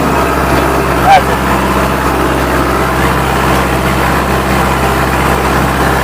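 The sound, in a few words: Kubota MU4501 tractor engine running with PTO engaged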